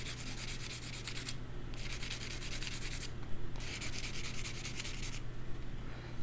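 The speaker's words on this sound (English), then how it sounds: "you're just going to lightly buff it over where that decal is" A nail buffer rubs lightly over gel polish top coat on a nail decal, making close, quiet scratchy strokes in three bursts separated by brief pauses.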